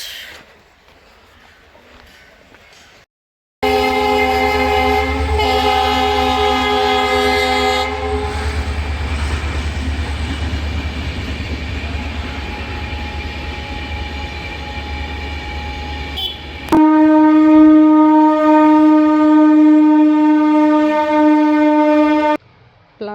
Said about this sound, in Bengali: ট্রেনের আওয়াজ সব সময় শুনতে থাকি